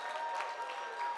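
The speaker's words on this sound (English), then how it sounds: "Let's give all of them a round of applause, please." Audience applause at a culinary competition event, a faint, distant wash of clapping with light crowd noise for about a second, a steady tone running underneath.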